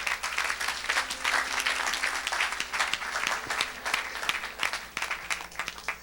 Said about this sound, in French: Est-ce qu'on peut acclamer pour ça?